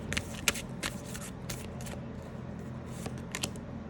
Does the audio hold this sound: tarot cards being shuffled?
yes